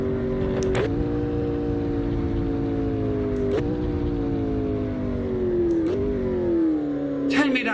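A McLaren P1 engine in Assetto Corsa hums at a steady high pitch, broken by three quick gear-shift blips, each followed by a slight pitch sag, close and loud, with no talk over it.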